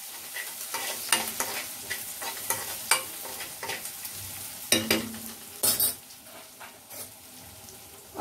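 Crushed garlic frying in a pan is stirred with repeated scraping strokes over a constant sizzle, the strokes coming in an irregular rhythm and several louder scrapes standing out toward the end.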